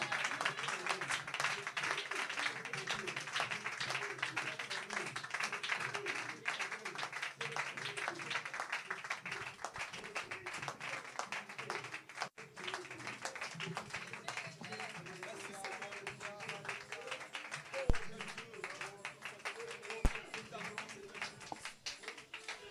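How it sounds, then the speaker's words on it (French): A church congregation keeps up continuous, dense applause and clapping at a steady level, with voices mixed in and a couple of sharper taps near the end. "Donnez-lui des mains d'acclamation"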